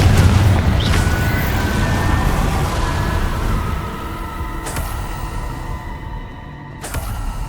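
A Confringo spell explodes in the video game Hogwarts Legacy, giving a loud, full booming blast with a sustained rumbling roar that slowly eases and is broken by a couple of sharp impacts.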